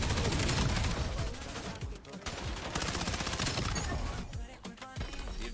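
Rapid-fire automatic gunfire in Call of Duty rattles loud and nearly continuous, with dense overlapping shots.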